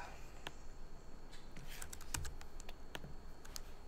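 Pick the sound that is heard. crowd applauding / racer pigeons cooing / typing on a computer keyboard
typing on a computer keyboard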